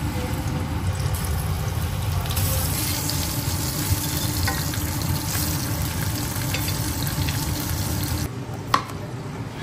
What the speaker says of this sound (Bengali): ইলিশ মাছ লবণ, হলুদ, মরিচ দিয়ে ফ্রাই করে নিব